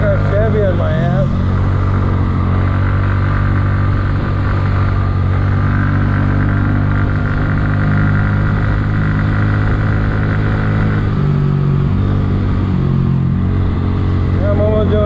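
Kymco scooter engine droning steadily while riding at speed, a loud continuous motor hum with wind roar and shifting pitch, close and constant throughout.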